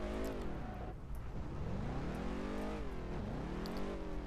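A car in the racing video game Test Drive Unlimited 2 drives along, its engine droning steadily and rising and falling in pitch as it revs through gears. The sound stays close and continuous.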